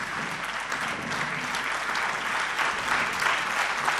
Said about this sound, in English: offer our gratitude and our vote of thanks with a loud applause and standing ovation